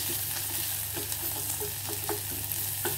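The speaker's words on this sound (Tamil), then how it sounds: "இப்போ வந்து நம்ம வெங்காயத்தை போட்டுருவோம். நல்லா ஒரு கொஞ்சம் வதங்கணும்." Onions sautéing in a pan for biryani give a steady close sizzle with scattered stirring scrapes and clicks, and no one talks.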